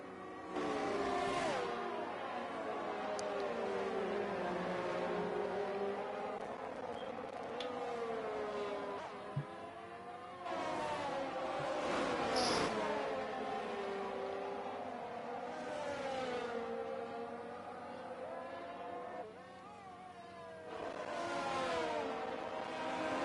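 Formula 1 race cars in a racing video game at the Qatar round, their engine whines rising and falling in pitch as they chase each other for position, loud and continuous over the full stretch.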